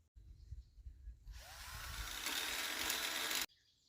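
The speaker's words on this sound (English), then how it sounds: "So I'm going to get my drill and I'm going to make the holes bigger" An electric drill bores to enlarge bolt holes in the legs of a camper van setup, a steady high whine lasting about two seconds after some handling noise, then stopping abruptly.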